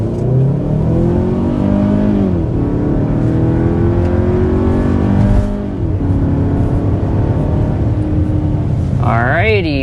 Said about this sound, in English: But first, we need to start with a hard acceleration.